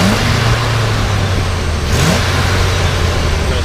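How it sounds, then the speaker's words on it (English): A 1981 Chevrolet K20 Suburban 4x4 engine revs up close and loud, a steady rumbling drone with a brief rise in pitch midway, no talking. "Go ahead and rev it up a little bit."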